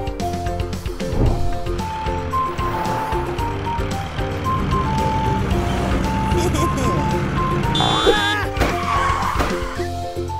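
A cartoon monster truck causing mischief on a road rumbles under a busy music score, with engine drone and a rising squeal near the end. A voice talks over the scene.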